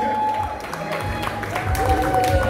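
Guests at a Nigerian and Ukrainian wedding clap and cheer in a short, busy burst of applause, mixed with crowd chatter and a voice speaking over it.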